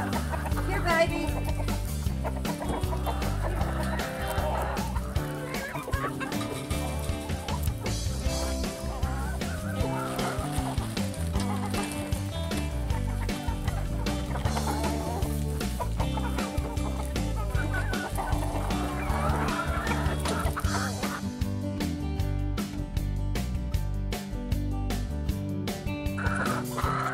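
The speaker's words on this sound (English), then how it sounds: "I think we got a lot of happy chickens." Backyard chickens clucking while being fed corn flakes, a busy flock calling repeatedly over a steady background of other sound, with a voice now and then.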